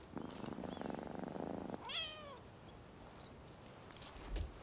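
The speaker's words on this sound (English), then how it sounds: "I think I just heard a cat though." In the video game Rise of the Ronin, a cat purrs steadily, then lets out a single clear, rising-and-falling meow, fairly faint over a low ambient background.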